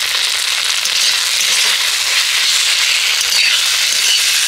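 Potato filling with tomato sauce being stirred in a hot pan, giving a steady, loud, dense sizzle that stays even throughout with no separate spoon strokes standing out.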